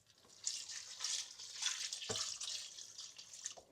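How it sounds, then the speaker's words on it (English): Water poured into gravy stock in a home kitchen, a steady splashing pour lasting several seconds with small surges, close and fairly quiet, with no talking. "And then it needs water. I reckon about that much water."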